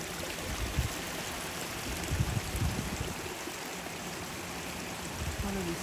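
A small stream tributary flows and trickles steadily on a nature walk outdoors, with a continuous close wash of water and a few brief knocks, with no talk.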